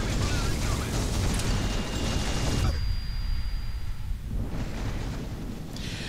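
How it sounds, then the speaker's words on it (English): An MPR impact grenade goes off in the zero-gravity shooter game Shattered Horizon, a loud close burst of rumbling, roaring noise that briefly thins out midway before surging again, with no talk over it. "Got hit by an impact, an MPR grenade, which sends you swirling off into the distance"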